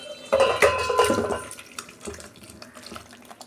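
Cooked shukto, a Bengali vegetable curry, pours from a pan on a gas stove. There is a close, wet splashing pour with a clatter of the pan and utensil, and it fades within a few seconds.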